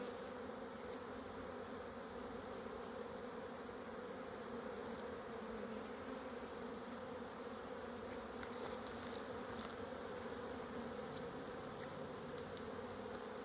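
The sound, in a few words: honeybees buzzing in hive during inspection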